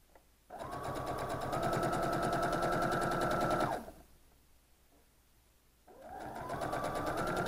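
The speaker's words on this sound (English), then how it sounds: "we will sew the rows together" A sewing machine stitches quilt rows together in two steady runs, a fast even whirring hum that stops briefly, then starts up again.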